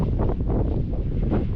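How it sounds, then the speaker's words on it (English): Wind gusts hard over an open potato field on a farm, buffeting the microphone in a continuous low, rumbling roar. "you can hear how windy it is"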